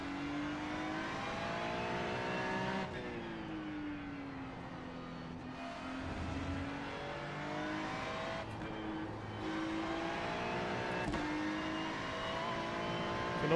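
Ferrari GT3 race car in iRacing, a steady loud engine drone that rises and falls in pitch through gear changes and throttle lifts, continuous and close with no talk.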